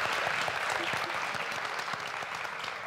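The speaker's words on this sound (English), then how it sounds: "Let's first give them an applause before they introduce themselves." An audience at a European literature panel event, CELA 2022, applauds the authors on stage: a continuous, even wash of many hands clapping, moderately close, with no speech over it.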